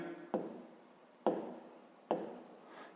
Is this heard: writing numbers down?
yes